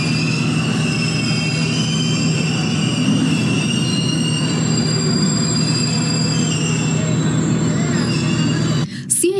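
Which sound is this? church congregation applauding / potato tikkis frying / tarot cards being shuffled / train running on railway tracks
train running on railway tracks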